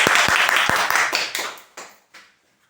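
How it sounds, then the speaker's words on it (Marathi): An audience at a lucky draw for a marketing scheme gives a short burst of clapping for a winner, sharp claps at first, then thinning out and trailing off into a few scattered final claps. "एकदा जोरदार टाळ्या वाजवा"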